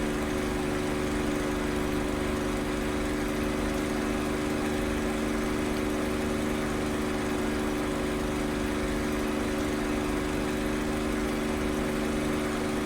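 P-51 piston engine humming in the DCS flight simulator, an unbroken, even droning tone with stable pitch throughout, moderately quiet and alone without voices.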